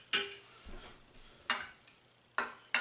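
A metal fork clinks sharply against a dish while mixing perch fish pieces, four distinct close taps spaced irregularly with quiet scraping between.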